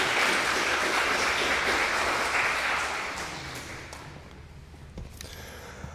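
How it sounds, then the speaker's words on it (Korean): A church congregation claps together, dense and sustained at first, then thinning and fading over the last seconds with a few stray claps at the end. "다시 한번 하나님께 영광의 박수 올려드리겠습니다."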